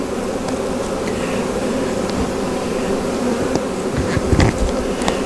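Honey bees buzz in a dense, continuous drone close by, with occasional louder passes of individual bees.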